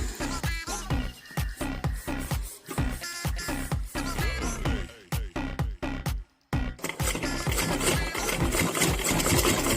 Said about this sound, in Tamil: இப்போ வந்து 2 சைடும் நம்ம மடித்து தைச்சிக்க போகிறோம் கொஞ்சம் கொஞ்சமாக